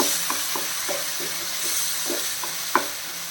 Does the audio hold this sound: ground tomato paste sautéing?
yes